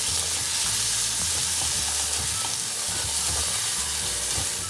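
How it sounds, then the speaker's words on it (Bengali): Onions fry with ginger-garlic paste and ground spices in hot oil, a loud, dense, continuous sizzle close up, with stirring under it. "পেঁয়াজগুলো থেকে হালকা সুগন্ধ বেরোনো পর্যন্ত খুব ভালোভাবে নেড়ে চেড়ে ভাজতে হবে।"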